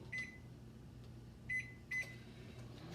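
Used to melt ingredients, a running microwave oven gives off a low, steady hum, broken by three short, sharp beeps, near and fairly quiet.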